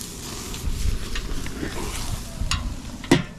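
BBQ bacon chicken bites sizzle on a grill over flames, a steady close hiss with bursts of crackling and a sharp clank near the end, no talk.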